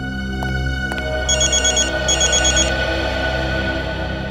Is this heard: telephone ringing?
yes